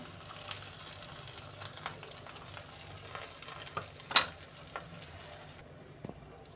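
An onion and egg omelette mixture sizzles softly in a hot pan, a steady low frying hiss broken by a few light clinks and scrapes, with no voices.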